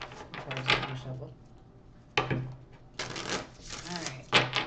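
Tarot cards being shuffled by hand, a few short riffling bursts separated by pauses, close and fairly loud.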